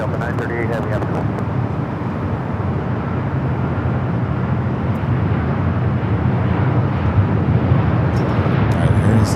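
An airliner arriving on runway 24 left at LAX roars as a broad, steady rumble that holds loud and continuous from start to finish, with a faint voice briefly audible underneath.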